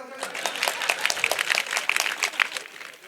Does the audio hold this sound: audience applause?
yes